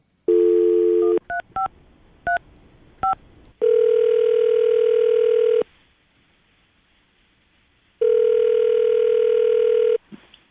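A phone number is tapped out in a quick series of dial beeps, then a steady ringback tone sounds twice with a long gap between, as a radio morning show calls a guest.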